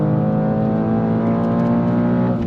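A 2023 BMW M2 G87 accelerates on a track, its engine a loud, steady, close droning roar with rising harmonic tones throughout.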